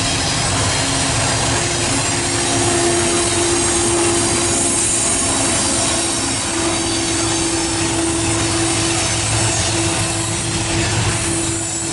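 A CN freight train with a distributed power unit passes at full throttle, a loud steady roar of engines and rolling wagons with sustained tonal hum and faint wheel squeal throughout, close by and continuous.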